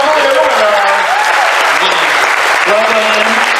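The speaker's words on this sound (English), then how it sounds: "Round of applause for Liam." A fan-convention crowd applauds a contest winner, steady loud clapping throughout with voices talking over it.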